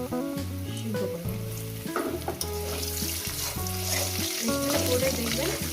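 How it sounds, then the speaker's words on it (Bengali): Potatoes fry in oil in a pan, giving a continuous crackling sizzle that sits under prominent background music throughout. "আলুগুলো ভাজা হয়ে গেছে"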